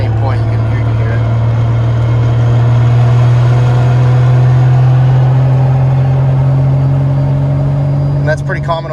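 A Toyota 2JZ engine drones loud and steady through a Tilton ST246 twin sprung-disc clutch, a constant low hum with a faint rattle near the end, heard close from inside the car.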